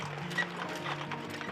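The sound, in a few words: horse hooves clip-clopping, horse-drawn carriage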